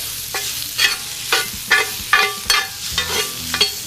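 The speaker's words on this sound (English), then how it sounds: "Stir those in with the garlic and ginger." Shrimp stir-frying in olive oil with garlic and ginger, a close continuous sizzle punctuated by about eight rhythmic scraping stirs of a utensil against the pan.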